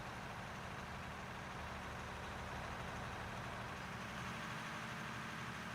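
In a mining video game, a heavy mining truck engine rumbles at a steady idle, a dense continuous low roar that stays loud and unchanging throughout.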